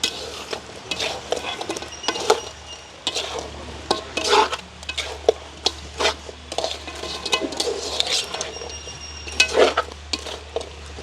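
A spoon stirs fried meat into sauce in a pan, giving repeated scraping and clattering strokes over a soft sizzle, close and fairly loud, with no talk.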